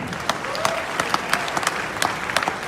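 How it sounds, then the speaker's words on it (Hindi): An indoor audience at a business meeting claps loudly and steadily, a dense crowd applause with sharp individual claps throughout. "जोरदार ताली इन सबके लिए।"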